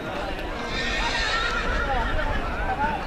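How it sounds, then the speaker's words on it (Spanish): A mare neighs at a rodeo fair in Zalamea, a loud, close whinny running across the clip amid crowd noise and an announcer's voice. "Para finalizar, tenemos a Miranda en la modalidad de yegua."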